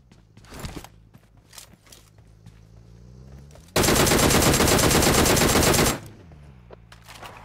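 Sustained automatic gunfire rattles loudly for about two seconds in a shooting video game, preceded and followed by scattered single shots, footsteps and faint game ambience.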